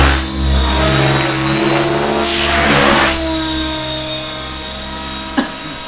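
Small model aircraft-style engine on a model car revving hard with a high whine, swelling to a peak midway and easing off, at a Saturday outdoor aeromodelling meet, with one sharp knock near the end.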